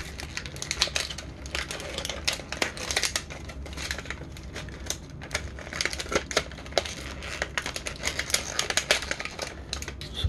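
Scissors snip and cut rubber bands off action figure packaging for a Star Wars Vintage Collection Aurra Sing, a close series of irregular sharp clicks and snaps mixed with plastic crinkling.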